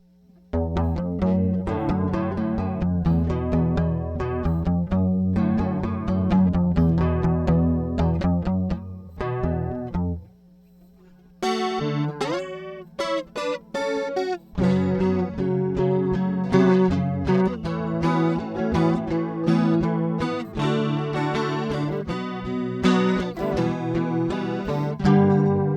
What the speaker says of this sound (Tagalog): So yun ang tunog ng ating chorus, Super Chorus CH1.